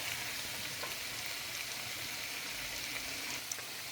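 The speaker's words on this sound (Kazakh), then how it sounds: "Қызанақпен біраз қуырамыз осылай" Tomatoes fry in a pan for pea soup, giving a steady, dense sizzle at moderate volume with a faint tick near the end and no voices.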